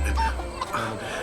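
Short, close clucks from a small chicken, a few quick throaty calls over a low background hum, with no talking.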